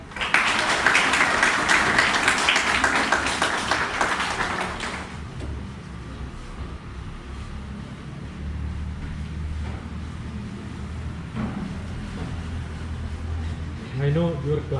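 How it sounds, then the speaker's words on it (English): Students in a high school classroom clap together in a dense burst of applause lasting about five seconds, then the room settles into a low murmur of ambient noise. "Clap."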